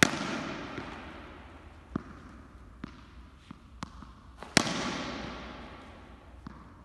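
A cricket bat strikes a ball during a batting balance drill, giving a sharp, loud crack at the start and another near the middle. Lighter ball bounces and taps fall between them in a reverberant outdoor net area.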